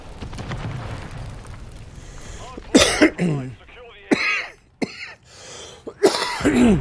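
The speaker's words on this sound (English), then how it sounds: "Now I'm coughing all of a sudden." A person coughs and clears their throat several times in irregular bursts, close and fairly loud, alongside some talking and gaming noise.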